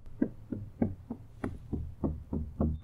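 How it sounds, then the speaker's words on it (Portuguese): A run of ten low, thudding knocks at a steady, fairly quick pulse, each a short dull hit with no voice around them. "isso daqui é uma frequência mais baixa, que gera som é, um pouco mais grave"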